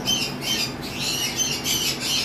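Pale fallow lovebirds squawk in a rapid run of harsh, close calls with a steady background hum, no talking.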